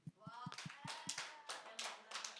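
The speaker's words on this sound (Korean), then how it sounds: "박수." A small class group claps in a quick rhythmic pattern during a church education lesson, a series of sharp, evenly spaced claps followed by looser scattered clapping, close and fairly loud.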